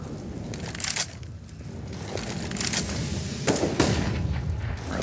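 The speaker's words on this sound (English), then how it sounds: "throwing a couple of flashbangs there" Flashbang grenades and gunfire in a professional Counter-Strike match on the Overpass map, a dense run of loud bursts and booms over constant game noise, with no talk.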